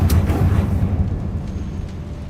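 A Confringo blasting spell goes off in the Hogwarts Legacy video game as one dull, rumbling burst that peaks at once and then fades into a low, lingering roar.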